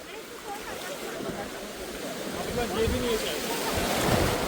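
Waves wash and slosh around a boat out at sea off Tarkarli and Devbag in Malvan, a continuous close rush of water mixed with wind buffeting the microphone.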